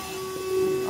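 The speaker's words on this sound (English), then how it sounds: "this vacuum is really good" A VacLife VL106 handheld vacuum cleaner runs on a couch with a steady, even motor hum that rises slightly partway through, close and continuous.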